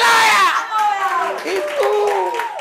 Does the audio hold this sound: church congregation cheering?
yes